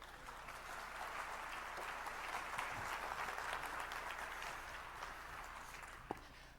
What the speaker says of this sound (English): Give him a round of applause and get him to come up here.